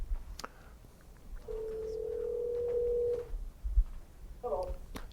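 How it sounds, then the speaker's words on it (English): Telephone line tone as a caller is connected on a live radio talk show: a single steady held tone of a couple of seconds over faint background hiss, followed by soft line noises. "we're going to get Travis on the phone here in just a second"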